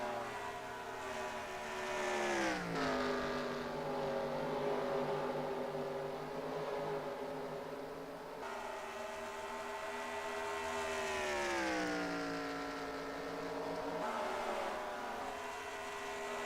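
Race cars roaring around a track during a championship race, engines rising and falling in pitch as they pass and shift, a steady moderately distant whine with no voices.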